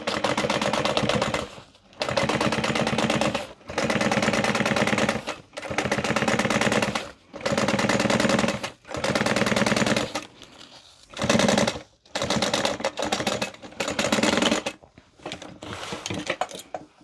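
A sewing machine top stitches a handbag zipper in loud, rapid bursts of mechanical stitching, separated by short pauses and a few brief stops and starts, close up with no talking.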